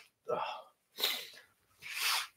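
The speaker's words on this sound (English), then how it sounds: "I need to blow my nose real quick." A person blows their nose in a few separate noisy bursts, each a breathy, honking blast of air, close and fairly loud with short silences between them.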